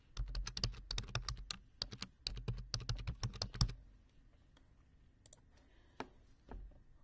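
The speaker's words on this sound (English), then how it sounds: "enter your full Columbus State email address" Rapid, crisp keystrokes on a computer keyboard as an email address is typed, a dense close burst of clicks for several seconds, then a few scattered key presses and a final thud in a quiet room.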